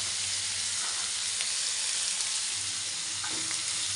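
Peas fry in a pan at a home birthday celebration, a steady soft sizzle with occasional light stirring scrapes, fairly quiet and close, no talking.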